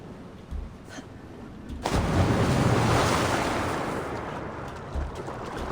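A pool of water from melted ice in Assassin's Creed Valhalla, a broad rushing wash of water that swells in and holds steady, with a brief grunt just before it.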